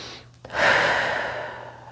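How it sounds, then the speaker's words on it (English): One deep grounding breath drawn in with knees bent, a close, airy inhale that swells quickly and then slowly fades away over about a second and a half, with no one talking. "I bend my knees and I take in a grounding breath"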